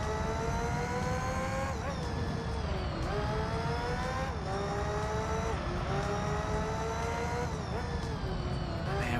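Screaming race car engines in Gran Turismo 3, including a Lotus F1 car, wail continuously at high revs, pitch dipping at each gear shift and climbing again, loud and close throughout.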